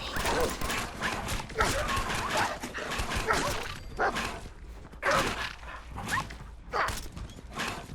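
A dog in the video game Fallout 4 barks and whimpers in repeated short yips and whines, mixed with someone talking throughout.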